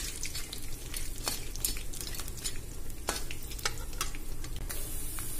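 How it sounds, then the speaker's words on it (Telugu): Peanuts, chana dal, urad dal and mustard seeds frying in a kadai, a dense crackling sizzle with sharp pops and occasional spatula scrapes, close and continuous. "పల్లీలు, శనగపప్పు, మినపప్పు, ఆవాలని యాడ్ చేస్తున్నానండి. ఫ్రై చేసుకుందామండి."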